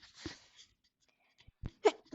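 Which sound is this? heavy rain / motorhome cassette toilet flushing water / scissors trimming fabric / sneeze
sneeze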